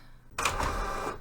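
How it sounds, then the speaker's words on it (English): A home printer starts up with a short whirring mechanical rush, close and moderately loud, rising out of near quiet and running steadily for about a second. "I'm just going to pop the printer on. You might hear that in the background."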